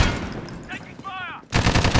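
Rapid automatic gunfire from a Call of Duty: Modern Warfare 2v2 match crackles loud and close, then stops briefly and resumes as a dense, sustained burst near the end.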